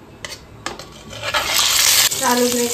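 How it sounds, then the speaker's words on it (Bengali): Potatoes go into hot white oil in a wok for a vegetarian potato-cauliflower curry: a few metallic clinks and scrapes, then a loud rising sizzle that settles into steady close frying. "তেলটা গরম হয়ে গেছে, দিয়ে দিলাম আলুগুলোকে"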